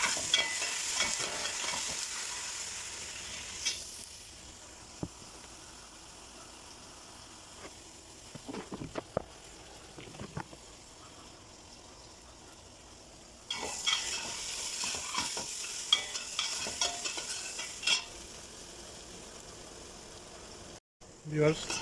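Onions and green chillies fry in a pan for a hilsa curry, a soft sizzle with stirring scrapes and a few sharp clinks, fading quieter in the middle, with a person talking in between.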